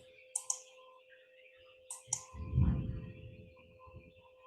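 Several sharp mouse clicks on a computer, heard as two quick pairs of clicks about a second and a half apart, followed by a low rumbling thump, with quiet room hum beneath.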